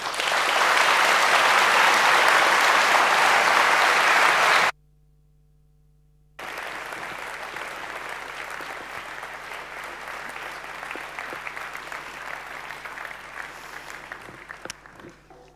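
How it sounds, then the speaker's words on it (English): Audience applause at the opening ceremony of a science forum, loud sustained clapping that cuts out briefly, then resumes a little softer and fades toward the end. "and you applauded her"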